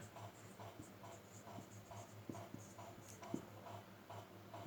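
A pen taps and scratches on paper through a Class 10 maths exercise, with a steady run of light, rhythmic strokes and small ticks over a constant room hum.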